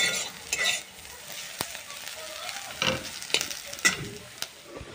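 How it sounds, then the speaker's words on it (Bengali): Potatoes frying in a home kitchen pan, with scraping stirs and a steady sizzle; sharp utensil knocks punctuate the crackling at irregular intervals, close and moderately loud, with no talking. "আর এখানে আমি আলু ভাজা রান্না করছি বোনের জন্য"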